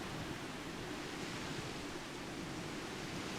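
Ocean waves wash steadily beside a housing plot in Final Fantasy XIV, a soft, even, hissing surf ambience with no distinct breakers, faint and unbroken throughout.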